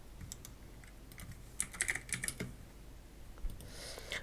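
Close, quiet typing on a computer keyboard, with scattered key clicks and then a quick burst of several keystrokes, and no talk over it.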